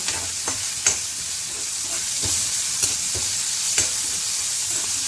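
Chopped onion with garlic sizzles in hot oil in a pan, a steady close crackling hiss broken by a few sharp scraping taps of a spoon stirring, with no talking.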